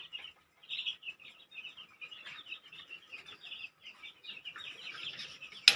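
Five-day-old layer chicks chirp continuously in a dense, high-pitched chorus of overlapping peeps, steady and fairly close, with no talking.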